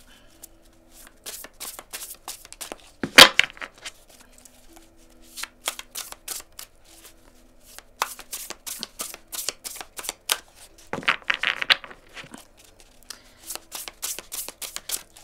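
Tarot cards being shuffled by hand for a reading, a steady run of crisp riffling and flicking bursts with a couple of louder bridging swooshes, close up and with no talking.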